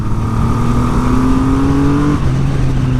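A 2020 Triumph Rocket 3 with its 2500cc engine pulls hard, a loud rising engine drone through the gears with a shift near the end, heard on board with wind noise.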